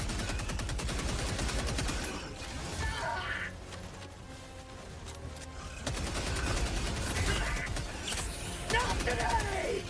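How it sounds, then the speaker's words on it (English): Enemy artillery strikes in a video game, with bursts of crashing, crackling explosions and debris, a brief lull in the middle, then renewed heavy impacts, voices occasionally underneath. "Enemy artillery strikes."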